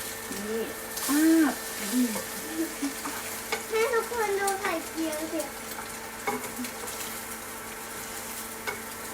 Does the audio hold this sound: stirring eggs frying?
yes